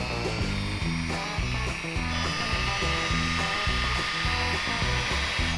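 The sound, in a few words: power sanding a truck's paint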